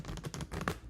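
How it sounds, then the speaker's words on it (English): Playing cards riffle together in a quick burst of soft, rapid, fluttering clicks lasting under a second, heard up close with nobody talking. "you just riffle them both on top of each other like that"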